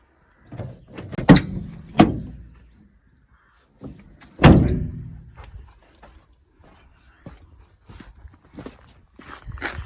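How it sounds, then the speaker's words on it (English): Several sharp mechanical clunks of a Ford Transit Mk7 van door lock locking and unlocking, spaced apart, with quieter clicks and shuffling between them. "I'm going to see if it locks and unlocks the back door"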